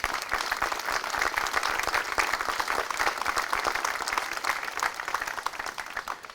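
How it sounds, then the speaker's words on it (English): Steady applause from an outdoor audience at a tree house dedication in Nay Aug Park, dense clapping holding at an even level throughout without a break. "please give a round of applause"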